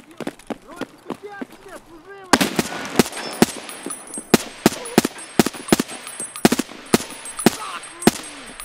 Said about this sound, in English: That sounded like something bigger than a shotgun